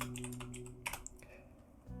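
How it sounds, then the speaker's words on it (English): Rapid keystrokes on a computer keyboard, clicking in a quick irregular burst near the mic, then thinning to a few isolated taps over a steady low background hum. "And then off of this return value, we're going to type in enable input."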